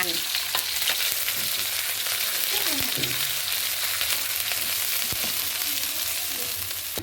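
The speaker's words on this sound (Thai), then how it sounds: "ใส่น้ำมันลงไปหน่อยหนึ่ง แล้วเจ้าใส่พริกของเขาลงไปเลยเนาะ" Chili curry pastes, red curry and massaman, fry in a little oil in a pan for a Thai satay dipping sauce, giving a loud, continuous close sizzle and crackle with occasional stirring scrapes and no speech.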